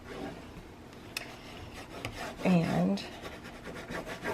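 Bone folder rubbing and burnishing tape down onto a chipboard cover: close, dry rasping strokes, loudest in a short burst midway, with a brief spoken word at the start.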